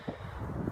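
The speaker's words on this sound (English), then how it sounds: "It's kind of windy today, but hopefully you can hear me." Steady low rumbling buffeting of wind against a microphone, continuous and fairly loud throughout, with no voices.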